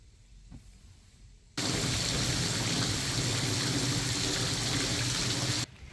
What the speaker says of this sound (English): I regret not bringing the ponchos because we are having some rain